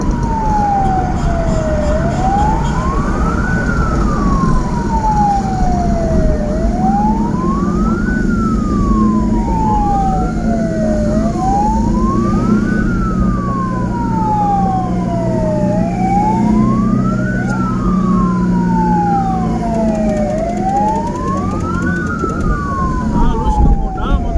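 An ambulance siren wails in a steady rising-and-falling sweep, loud and close, while escorting a patient from Garut to Antapani through heavy, slow traffic near Cileunyi, with engine rumble and occasional voices underneath.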